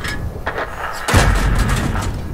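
Tank cannon fire in a video game, a faint shot followed by a heavy booming blast with a rumbling tail, loud and close, no speech.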